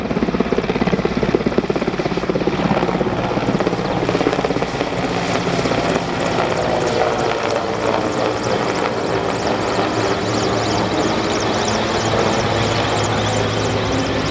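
A rescue helicopter flies overhead during an emergency service training exercise, its rotor and engine producing a loud, continuous whirring drone that holds steady throughout.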